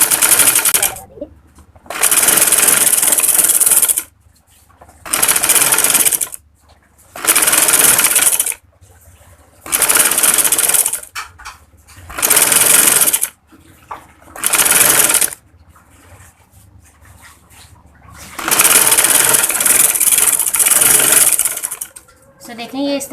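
Sewing machine stitching the neckline of a kurti, running in repeated loud bursts of about one to two seconds separated by short pauses, with a longer final run; no talk over it.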